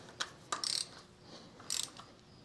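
A socket wrench ratchet clicks while work is done on a Farmall Super M tractor, in two quick close bursts of rapid pawl ticks with a few softer single clicks between, fairly quiet.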